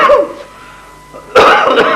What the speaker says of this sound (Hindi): क्या सुरीली खांसी है तुम्हारी